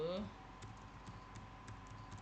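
Typing on a computer keyboard, soft scattered key clicks at a moderate pace, faint and close, over a low steady hum after a brief louder sound at the start.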